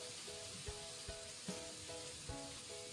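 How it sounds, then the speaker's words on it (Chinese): Soft hiss of cooking wine sizzling as it is poured along the edge of a hot wok of stir-fried cabbage, a faint steady sizzle with light scraping taps and a repeating tone in the background. "沿着锅边烹入少许的料酒"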